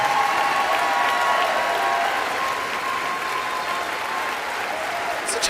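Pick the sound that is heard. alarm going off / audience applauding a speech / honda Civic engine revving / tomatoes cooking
audience applauding a speech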